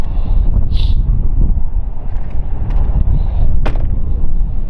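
Steady low rumbling wind buffeting a microphone outdoors on a chilly day beside a 2016 Ford Mustang, constant and fairly loud, with a few faint higher rustles and brief noises.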